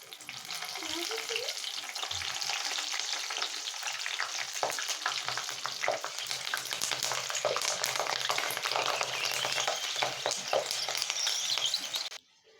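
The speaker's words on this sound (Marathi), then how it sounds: "यानंतर आपण मिरची भाजून घेणार आहोत तळून घेणार आहोत" Green chillies frying in hot oil for Mumbai-style vada pav give a steady, loud, close crackling sizzle that runs unbroken for about twelve seconds and then cuts off abruptly, with no one talking.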